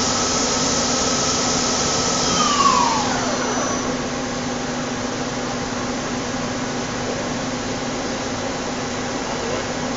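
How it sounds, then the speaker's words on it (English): Daewoo Puma 400 CNC lathe with Fanuc 18T control and 15-inch chuck, spindle running steadily in high gear, a continuous loud whirring hum with a brief pitch sweep near the start. "Get it into high gear."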